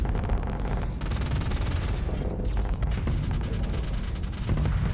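Ship weapons fire in the Starsector space game: dense, rapid bursts and booming launches, with torpedoes fired repeatedly, forming a loud, continuous barrage with sharp breaks and sweeping streaks.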